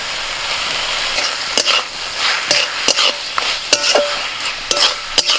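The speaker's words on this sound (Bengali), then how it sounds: "কচু পাতাটা চিংড়ি মাছের সাথে 2 মিনিট নাড়াচাড়া করে নিয়ে" Prawns and taro leaves stirred in a frying pan, a steady sizzle under repeated sharp scrapes and clinks of a spatula against the pan, close and fairly loud.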